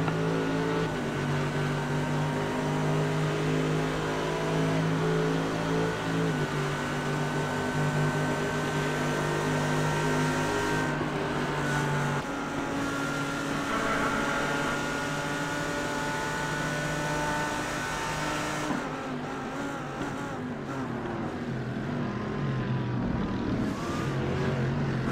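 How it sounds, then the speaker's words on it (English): An Audi race car in iRacing at the start of the 24 Hours of Spa Francorchamps, its engine droning steadily with harmonic tones that rise and fall through gear changes, alone with no talk. "And that Audi makes a nice sound."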